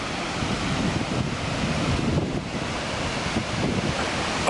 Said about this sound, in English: Just another casual waterfall.